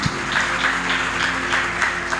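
A church congregation claps together in worship, a steady run of sharp, evenly spaced hand claps that fills the room with no voices over it.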